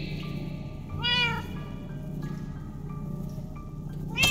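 A cat meows in the Minecraft Story Mode video game, one clear drawn-out meow near the start and a shorter one at the end, over a steady low background hum and quiet game tones.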